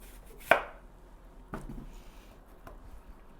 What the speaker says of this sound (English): we're just going to give that a chop like that so we can leave the core alone